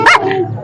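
A single sharp dog bark at the Maghi animal fair in Muktsar Sahib, close and loud, followed by a brief lower tail of sound.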